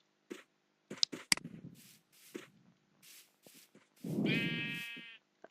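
Sheep bleating in Minecraft with the Dalek mod, a drawn-out bleat near the end amid soft game clicks and shuffling, moderately quiet with no talk over it.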